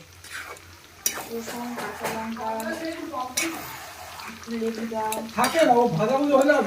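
Stomach and liver stir-fry for kosha at an outdoor year-end picnic, with clattering utensil scrapes and stirring over a rising sizzle while people talk over the cooking.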